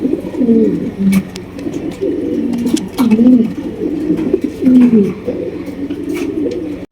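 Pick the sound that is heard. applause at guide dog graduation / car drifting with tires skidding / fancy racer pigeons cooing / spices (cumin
fancy racer pigeons cooing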